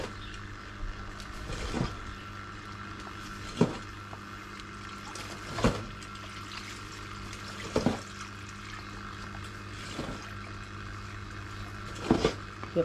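Steady water flowing from a pond waterfall fed by a pump that runs around the clock, a constant close splashing rush with occasional louder splashes and knocks, no talking.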